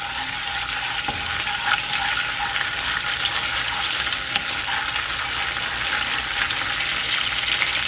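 Chopped garlic fries in melted butter for a restaurant-style dal makhani, giving a steady, loud, dense sizzle with a few brief stirring clicks and no talk.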